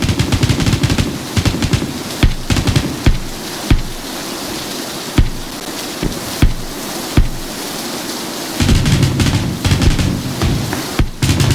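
Video game gunfire coming from a house, heard as sharp repeated shots in irregular bursts over a constant loud wash of noise, close and without talk.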